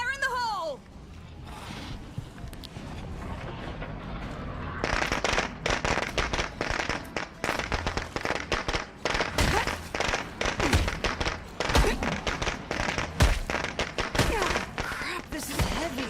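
A thrown explosive goes off in the zombie survival game State of Decay 2, followed by a long run of sharp crackling pops and thumps, loud and close, with a voice talking over the start.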